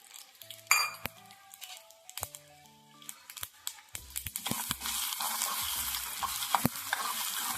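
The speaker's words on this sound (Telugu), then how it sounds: "మనము జస్ట్ టేబుల్ స్పూన్ అంత మనం ఆయిల్ ప్యాన్లో వేసుకొని ఆవాలు జీలకర్ర యాడ్ చేసుకోవాలి" Mustard seeds and cumin drop into a tablespoon of hot oil in a pan: clinks of a utensil at first, then a growing, crackling sizzle with sharp pops, close up.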